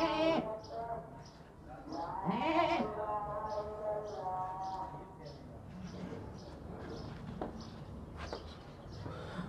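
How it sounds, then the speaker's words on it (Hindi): Goats bleat repeatedly at a farm market, a young first-time mother goat with her two kids, a red male and a white female, their cries rising and overlapping at close range while someone talks over them. "ये है वाइट वाली बकरी है, लाल वाला बकरा है। ये है बकरी इनकी माँ।"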